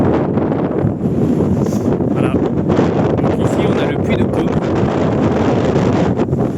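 Strong wind buffets the microphone on the summit of the Puy de Dôme, a loud, continuous low roar while someone talks over it.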